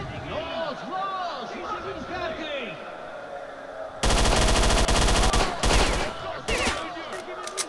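Loud bursts of automatic gunfire erupt in S.T.A.L.K.E.R.: Shadow of Chernobyl, a sustained rapid volley followed by shorter separate shots, coming after a stretch of speech.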